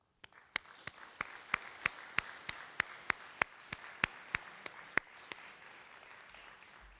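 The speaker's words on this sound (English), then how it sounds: "I think you guys deserve a huge round of applause" Sparse hand claps at a high school senior athletic banquet, roughly a dozen and a half sharp, evenly spaced claps over a faint room hush, fairly quiet and slowing toward the end.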